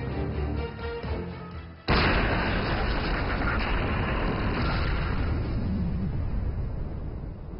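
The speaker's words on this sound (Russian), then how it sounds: "Грохот от взрыва прорывается сквозь тоннель." A tunnel blasting charge detonates with a sudden loud boom, then a long rumbling roar that echoes and slowly fades, with a steady high whine in the background throughout.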